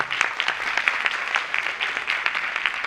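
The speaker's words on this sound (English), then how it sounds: "Give a big applause, come on." Audience applause for the next two speakers at a talk event, a steady wash of many hands clapping at moderate distance for about three seconds, with no voices over it.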